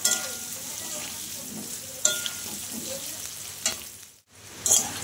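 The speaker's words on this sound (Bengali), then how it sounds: "ওলগুলোকে আমি একটু ভালো করে ভেজে নেব, ওলটা আর আলুটা।" Pieces of elephant foot yam and potato fry in a pan with a soft steady sizzle, broken by a few sharp scraping stirs; no one speaks.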